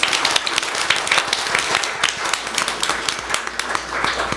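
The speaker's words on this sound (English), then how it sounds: "I want to give you all a round of applause" An audience applauds donors at the A Place at the Table 2018 benefit show, steady close clapping from a crowd with sharp individual claps standing out, continuous for the whole stretch.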